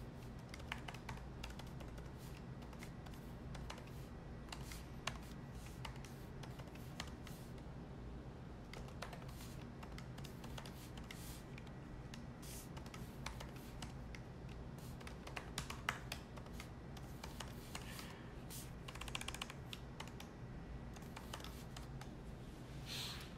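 Steady typing on a computer keyboard while HTML list items are written, dense continuous key clicks with occasional louder taps over a low steady hum, no talking.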